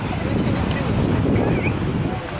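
Sea waves breaking on a beach, a continuous loud roar and wash of surf with wind buffeting the microphone, people talking underneath.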